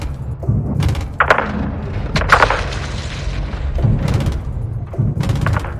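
Artillery shells strike in a Modern Warfare 2 battle, landing as a string of loud, heavy booms and thuds spaced a second or so apart, with rumbling debris between impacts.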